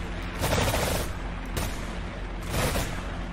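Rocket launcher shots fired at a helicopter in a video game, heard as repeated loud close blasts in about three surges over a constant roar of battle noise.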